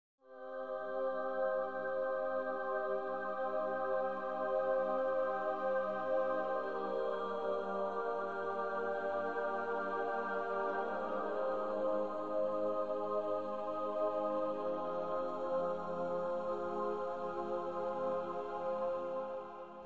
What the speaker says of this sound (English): I used a software called Omnisphere to make this choir